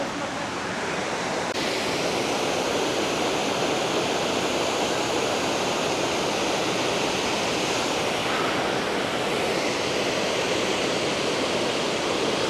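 Rushing water where two rivers meet, a loud, steady broadband roar heard close by, unbroken throughout.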